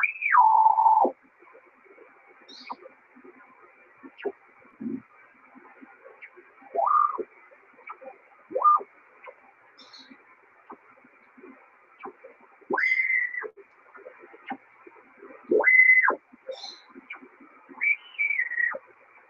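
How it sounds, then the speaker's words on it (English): Scattered cockatiel peeps and short whistles at intervals over a quiet background, some rising and falling, fairly close. "what is that little peep peep sound? It's my bird. I have a cockatiel"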